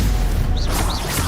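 A Stupefy stunning spell cast in Hogwarts Legacy, a short whooshing magical burst over a dense, steady rumble of game noise.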